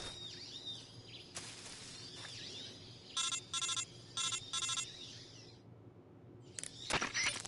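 A phone rings in the Metal Gear Solid 3 video game: four short, bright electronic ring bursts in a steady pattern, clearly above a murmuring game background, with more electronic tones near the end.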